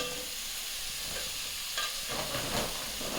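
Chicken fries in a pan with a loud continuous sizzle while a utensil stirs and scrapes it in bursts, close up and without speech.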